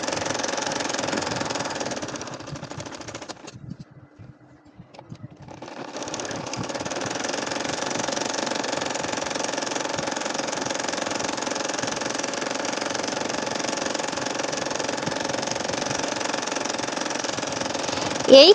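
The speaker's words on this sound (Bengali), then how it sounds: "দেখেন আমি দ্বিতীয় লাইনটা সেলাই করতেছি" An electric sewing machine stitches straight lines across a nakshi kantha quilt with a steady, close mechanical whir. It stops briefly near the start, then runs on evenly for a long stretch.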